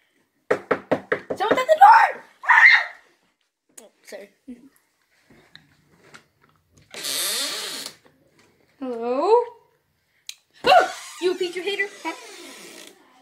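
Series of sharp knocks on a door, about six quick raps in a row near the start, followed by a second short burst, then quiet with scattered voices and exclamations afterward.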